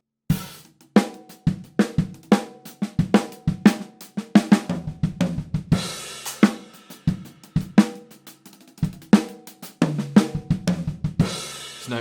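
A drum kit plays short fills of sharp snare and tom hits, with kick drum thumps landing on the final notes, close and punchy, repeated several times with brief gaps.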